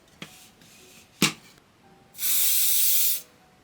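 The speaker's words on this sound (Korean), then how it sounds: "세 번째 보여드릴 거는 이 아모스 디자인 스프레이예요" An Amos Design hair spray can lets out a steady hiss of about one second, preceded by two sharp clicks of handling the can, close and clear in a quiet room.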